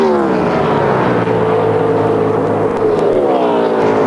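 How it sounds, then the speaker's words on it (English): A Winston Cup race car engine, sounding as though it is not running as it should, roars loudly and continuously with a rising and falling whine at a 2003 Texas race, heard over broadcast commentary. "We're hearing that the motor's not sounding like it's completely working like it should"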